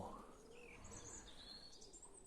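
Soft bird calls and chirps in the distance over a quiet outdoor background, a few high whistles drifting through.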